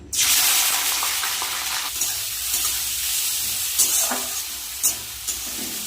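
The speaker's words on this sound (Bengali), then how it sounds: "বিনস গাজরটা ভাজা হয়ে গেল" Beans and carrots fry in hot oil for vegetable chow mein with a steady, loud sizzle, with a few brief stirring scrapes and spatters near the end.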